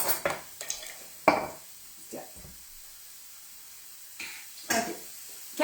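A mixing spoon stirring softening food sweating in a pan, giving scattered scrapes and clinks with a faint sizzle between them, close and fairly quiet, with brief talking.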